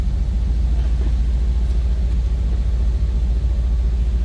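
A 1968 Chevrolet Corvette convertible's engine rumbles low and steady close by, a deep continuous idle with no speech over it.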